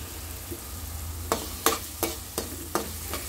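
Pasta with vegetables, sweet corn and coriander is stirred in a frying pan. A low sizzle runs underneath five or six distinct scraping strokes of a spoon, spaced evenly in the second half.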